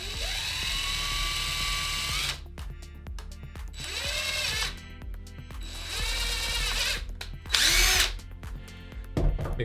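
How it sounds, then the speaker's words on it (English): A power drill boring a hole through both sides of a DIY spearfishing flasher, several close, loud whining bursts with motor pitch sagging under load and short pauses between runs. "Now we're gonna use our drill again. We wanna drill through"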